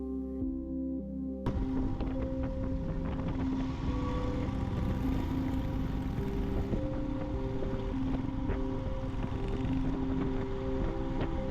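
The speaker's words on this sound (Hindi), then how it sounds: "इस वक्त बाइक की आवाज, इंजन की गूंज" A motorcycle engine drones steadily under heavy wind rush on a mountain road between Shimla and Narkanda, Himachal Pradesh, starting abruptly after a brief quiet moment.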